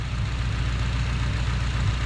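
A K24-swapped Honda Civic FG2 idles steadily while warming up, its low, even engine drone holding close and constant without talk.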